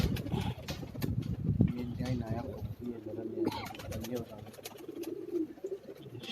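Shahjahanpuri pigeons coo repeatedly on a Karachi rooftop, their soft throaty calls rising and falling close by while people talk over them and faint engine noise hums beneath.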